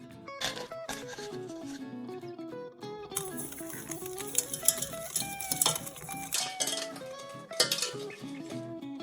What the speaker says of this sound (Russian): Сначала желтки перемешаем с сахаром.